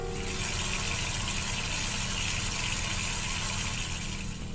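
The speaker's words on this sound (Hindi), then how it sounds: "तब वॉशरूम से पानी गिरने की आवाज़ आई" Water gushes steadily from an open washbasin tap in a resort washroom, a loud, unbroken rushing hiss that fills the whole stretch with no voices.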